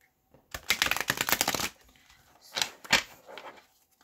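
Riffle shuffling of a Two-Tone Tarot card deck, close up: a long crisp burst of flapping cards, a pause, then a shorter second riffle, with no talking.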